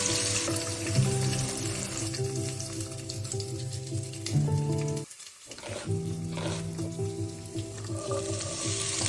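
Sardines frying in a pan of hot oil give a steady, close sizzle with crackling bubbles that carries on throughout, with one brief dip near the middle.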